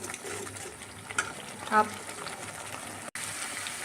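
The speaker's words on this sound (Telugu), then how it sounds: "సో ఇలాగ గరిటతో కలుపుతూ మనం ఈ ముద్దని ఫ్రై చేసుకోవాలి." Turmeric paste fries in oil in a pan, giving a soft, low sizzle with faint scraping as a ladle stirs it, quiet and close, with a voice in the background.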